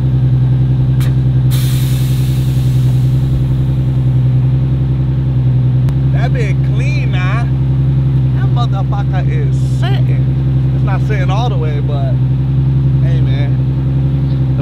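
Air Lift 3P air suspension on a Nissan 350Z Nismo, with a steady compressor-like hum throughout and a brief sharp air hiss early on; someone talks loudly over the droning hum in the second half.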